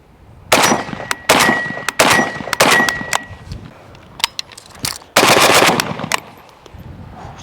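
An AK47 in 7.62x39 fitted with a small muzzle brake fires several loud, sharp bursts of rapid shots close by, with brief pauses between them and metallic rings trailing after.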